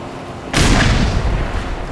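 A grenade explodes in the video game Black Mesa: after a quiet half-second, one loud, sharp boom bursts in and spreads into a heavy, sustained roar that lingers without fading.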